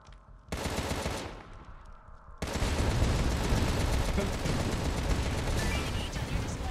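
Rapid gunfire in the video game Contra: Rogue Corps, a short dense burst followed by a pause and then a sustained, loud, continuous barrage of automatic fire with booming low end.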